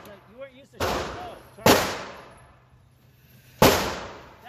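Three sharp gunshots crack out during shooting practice, each a loud broadband blast with a long decaying tail, spaced unevenly over a few seconds; faint voices murmur in the quiet gap before the first shot.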